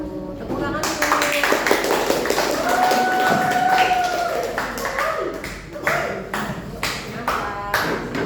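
Applause follows a school debate, a crowd of students clapping in uneven bursts close by while people talk and call out over it.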